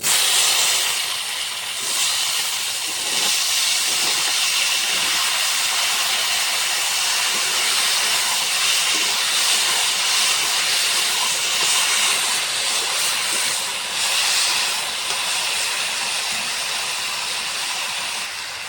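Taro root pieces salted and dropped into hot oil with tempering spices, a steady loud broadband sizzle and hiss that carries on without a break, close up and with no talking.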